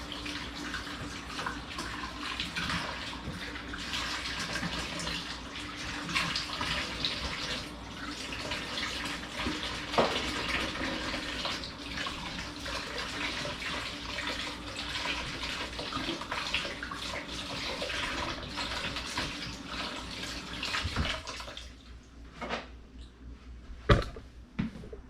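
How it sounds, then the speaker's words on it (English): A ladle is rinsed under a running kitchen tap: a steady, close hiss and splash of water that runs for about twenty seconds, then stops with a couple of light clunks. "I just gotta rinse the ladle off real quick."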